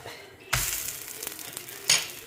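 Adai batter hitting a hot pan, a sudden bright sizzle bursting up and holding as a steady crackling hiss, with a second sharper sizzle surge near the end, close and fairly quiet.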